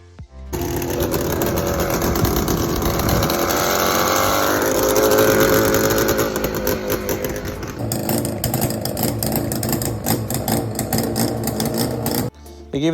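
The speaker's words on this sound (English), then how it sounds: "and here's the sound of them riding." Suzuki T500 two-stroke motorcycle with custom expansion chambers and mufflers, riding past with a loud, buzzy, raspy engine note rising and falling under wind noise.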